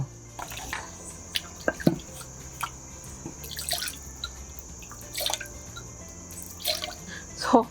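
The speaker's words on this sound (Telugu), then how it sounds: "ఎవరు అడిగారు ఈ రోలు ఎలా కడుగుతారంటే, రోలు ఇలాగే కడుగుతారు" A stone grinding mortar is rinsed with poured water in a village kitchen, giving close splashes, drips and sloshing bursts that recur irregularly over a steady hiss.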